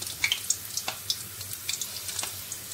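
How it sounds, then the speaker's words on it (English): Hands being rinsed in a bowl of water while frying Nigerian puff puff dough, with soft splashes and drips, a few sharper trickles standing out over a quiet background. "I clean my hand, I wash my hand in the water"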